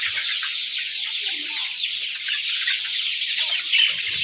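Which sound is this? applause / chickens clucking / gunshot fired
chickens clucking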